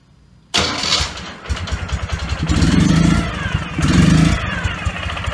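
A 2012 Ural Patrol motorcycle engine cranks and fires abruptly, then settles into a loud, close, lumpy idle with two brief throttle blips and a mechanical clatter, and no one speaking.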